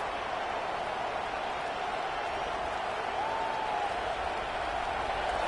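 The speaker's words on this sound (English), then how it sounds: "This crowd ready to make its presence known" Crowd cheering at a football stadium in an NCAA football video game, heard as a steady, moderately faint wash of roaring noise that holds for the whole stretch without letting up.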